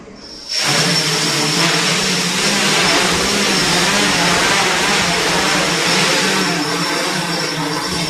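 The motors of a DJI 450 drone throttle up abruptly from quiet to a loud, steady, high-pitched whirring drone. The sound holds close and constant with no talking.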